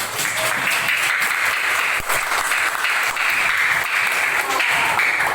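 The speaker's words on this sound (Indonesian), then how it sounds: "Kita beri tepuk tangan ke Davina." A classroom of students applauds Davina during a history lesson, a dense, steady wash of clapping that holds at an even level from start to finish.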